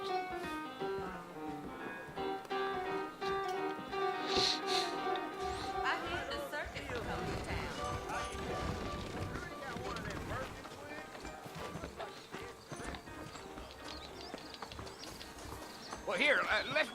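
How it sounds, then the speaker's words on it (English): Horses' hooves clip-clop steadily in the Western game Red Dead Redemption, a rhythmic trot under ongoing spoken dialogue and background music, with a faint whinny. "I got the horses saddled up and ready out front"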